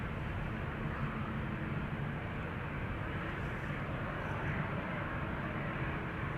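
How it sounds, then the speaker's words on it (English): A BA City Flyer Embraer 190 taxiing toward the runway at Amsterdam Schiphol, a steady, loud jet engine roar and whine that holds evenly throughout with no break. "This is BA City Flyer to London City, Embraer 190, flight 8496."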